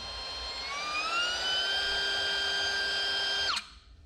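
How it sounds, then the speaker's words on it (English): A plunge router's electric motor whines steadily at close range, its pitch rising as it spins up and then holding a constant high tone before cutting off abruptly near the end. "And it's a plunge router as well"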